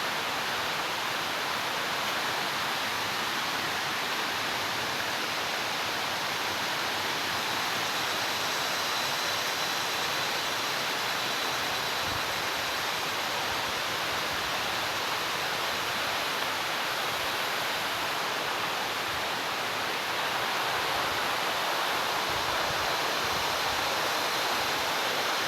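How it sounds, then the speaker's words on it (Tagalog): A waterfall pours with a constant, loud hiss of rushing water, steady and unbroken for the whole stretch, with no voices over it. "Mga falls."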